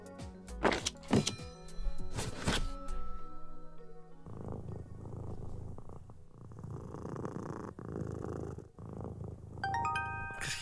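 Cat purring close up, a soft rhythmic rumble that runs steadily after a few clunks and knocks at the start.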